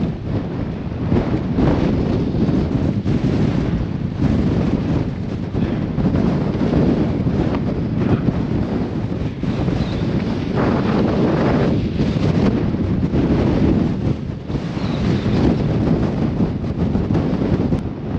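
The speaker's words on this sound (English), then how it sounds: "we need to drop down out of this wind" Strong wind buffets the microphone outdoors during a wild camping trip, a loud, steady roar with gusty swells lasting throughout and no voices over it.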